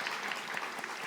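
Brief burst of church congregation applause thanking a youth accompanist at a Sunday worship service, a dense patter of many hands at moderate volume.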